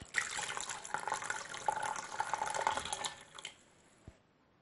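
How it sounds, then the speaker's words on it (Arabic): Water pours into a pressure cooker holding glass jars of green beans set on a cloth, a close, steady splashing stream that tapers off and ends with a few drips and a light clink. "نضع القارورات، نملأ الطنجرة بالماء."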